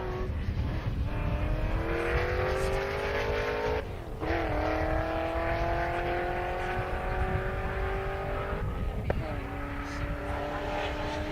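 A Corvette drag races down a half-mile airstrip in a loud engine scream rising through gear shifts over two long pulls, while a voice talks over it.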